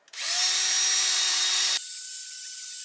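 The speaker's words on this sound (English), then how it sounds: "a proper power drill would be better for this, but I don't have one, so battery drill it is" A battery drill spins a grinding bit, porting an RB25DET cylinder head: a loud, close, high whirring grind that runs steadily, then drops abruptly to a lower, thinner spin as the load changes.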